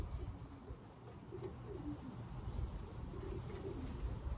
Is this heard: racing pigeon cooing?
yes